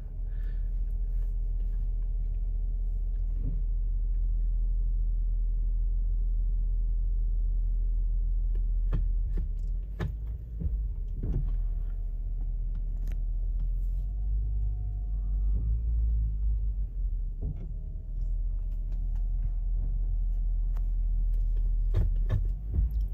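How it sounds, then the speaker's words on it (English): A Lexus LX470, the 100 series Land Cruiser, creeps slowly forward in drive with a steady low engine rumble throughout, broken by a few faint clicks and knocks. "Go ahead and put it into drive, go a little bit forward, let it lock into place."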